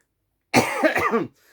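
A single close, harsh cough lasting under a second, loud after a moment of silence, followed by quiet.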